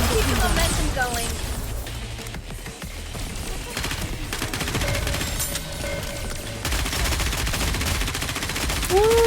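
Rapid gunfire from the video game NIKKE, with dense bursts of machine-gun fire and volleys continuing throughout, loud and close, under occasional voices and game sounds.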